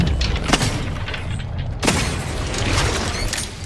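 Revolver pistol shots in The Outer Worlds 2, two sharp broadband cracks about a second apart, the second louder, over a dense rumbling game soundscape with no talking.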